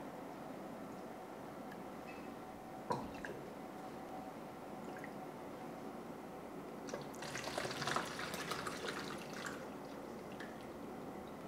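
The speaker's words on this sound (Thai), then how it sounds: "เราจะกรอกใส่พิมพ์กะลามะพร้าวแล้วก็พิมพ์ถาดค่ะ ตักใส่ให้เต็มพอดีเลยค่ะ" Warm coconut jelly, made with roasted coconut, is ladled into coconut-shell and tray molds, giving soft close liquid pours and drips with a few light clinks, busiest near the end.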